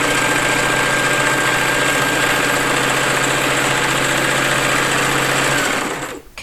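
Sewing machine running steadily, stitching a seam through lotus-petal fabric pieces, a loud continuous mechanical whir that cuts off near the end.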